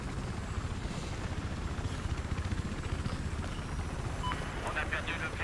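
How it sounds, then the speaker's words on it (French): Helicopter rotor and engine in the video game Battlefield 4 during a Conquest match on Siege of Shanghai, a steady fast chopping drone throughout, with someone talking over it. "On va prendre l'hélico."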